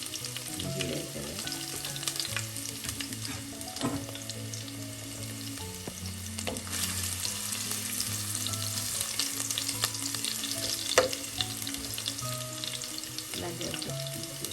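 Finely chopped garlic and ginger sizzle steadily in hot oil for Kerala-style chickpea curry, a bright continuous crackle with occasional stirring clinks and a low background hum.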